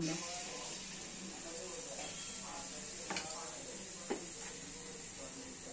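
Malpua, palm-fruit pancakes, frying in oil in a wok, a steady soft hiss and sizzle running throughout with a couple of faint clinks, fairly quiet.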